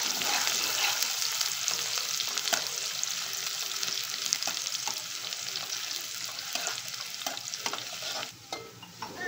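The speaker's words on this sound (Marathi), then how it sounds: "एक उभा चिरलेला कांदा यामध्ये मी आता फ्राय करून घेणार आहे।" Sliced onion frying in a pan for chicken biryani, a dense steady sizzle with scattered crackles and occasional soft stirring scrapes, close and continuous, easing slightly near the end.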